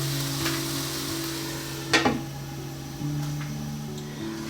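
Stuffed milkfish filling cooks in a covered pan, a steady low sizzle with faint stirring and a couple of brief clanks of utensil against the pan.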